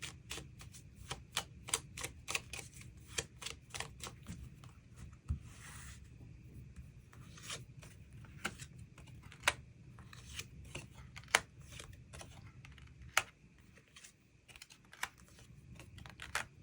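Tarot cards being shuffled and drawn in a quiet room, a long run of crisp, close card snaps and flicks in an irregular rhythm over a low steady background hum, no talk.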